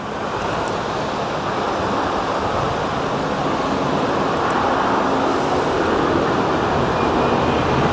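Steady broadband roar inside an airliner landing at Paro International Airport in Bhutan, a constant loud rushing of engine and air noise that builds slightly without breaks.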